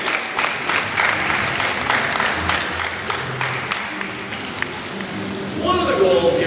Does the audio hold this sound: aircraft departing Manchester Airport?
no